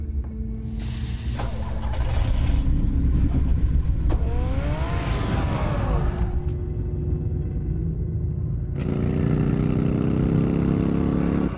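Car engine in a Batman video game, a loud rumbling drone that revs up and falls back, with a hissing spray-like wash layered over it, then settles into a steady idle.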